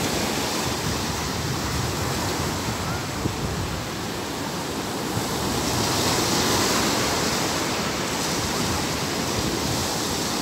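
Surf breaks along a Zambales beach where people ride the waves, a broad, constant wash of crashing water that swells slightly toward the middle, loud and unbroken, with no clear speech.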